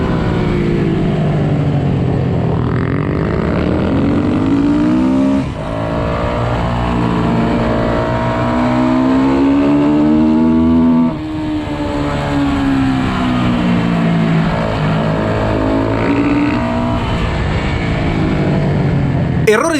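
Racing motorcycles in a Master GP race scream loudly through rising and falling revs as riders open the throttle, engine pitch sweeping up and down continuously, with a commentator's voice over the top.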